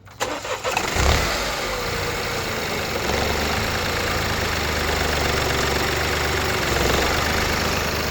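A car engine cranks with a few quick turns, catches, and settles into a steady, loud idle that keeps running.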